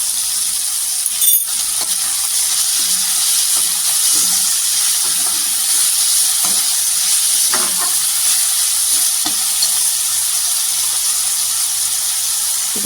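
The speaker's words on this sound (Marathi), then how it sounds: "टोमॅटो पण तेलावर छान परतून घ्यायचं." Tomatoes sautéing in hot oil for a dry ghevda (flat bean) bhaji, a steady close sizzle and hiss with occasional stirring scrapes and light clinks throughout.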